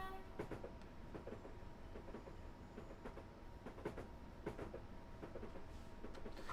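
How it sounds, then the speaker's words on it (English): Another train runs past on the adjacent line outside a London to Brighton service, heard as a steady loud rumble with repeated clickety-clack wheel beats over the rails and no talk. "There's another train over there on the other line."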